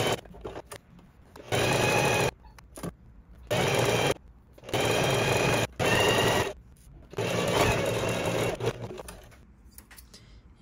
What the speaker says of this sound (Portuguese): Mas eu vou pra máquina de costura e eu vou cortar. Eu vou costurar aqui e toda essa lateral aqui do lado, tá?